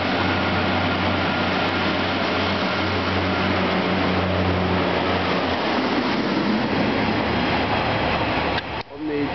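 A Pacer diesel unit, class 142 number 142028, pulls out of Stockport station with a loud, steady engine drone and rumbling wheels that hold close throughout before cutting off sharply near the end.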